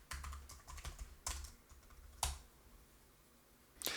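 Quiet clicking of fingers typing a password on a computer keyboard, with irregular bursts of keystrokes and a few sharper taps, close by with no talk.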